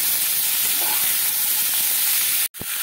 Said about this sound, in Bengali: এবারে মিডিয়াম ফ্লেমে রেখে এগুলোকে আমি একটু ভেজে নেব।